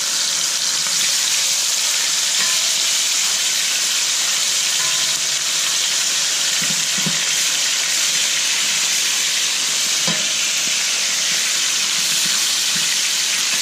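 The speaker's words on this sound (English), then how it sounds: "the oil is hot, so I'm going to go ahead and add my steaks" Steaks searing in hot oil in a pan, a loud continuous sizzle and hiss with steady crackle throughout and a couple of brief clinks partway, no talking.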